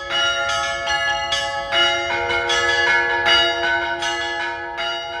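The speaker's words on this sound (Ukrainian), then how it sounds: "Третий вид – это звон во все колокола" Church bells of an Orthodox church ring all together in a full festive peal (trezvon), with dense overlapping bell tones and steady rhythmic strikes, loud and continuous throughout, no voices.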